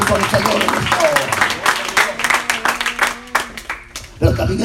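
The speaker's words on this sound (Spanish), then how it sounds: "Fuerte ese aplauso al Señor en esta hora." A church congregation claps during a sermon, a loud, dense burst of applause filling the room, with voices mixed in over the clapping.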